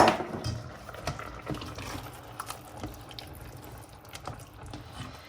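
A homemade ragu sauce is stirred in a pot, giving soft wet sloshing and light scraping with small clinks, fairly close and steady, with no talking.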